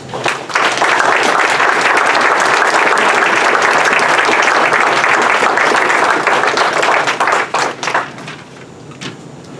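An auditorium audience at a poetry event applauds the poet Tracy K. Smith with loud, dense, sustained clapping. It holds for about eight seconds, then thins into scattered claps and fades.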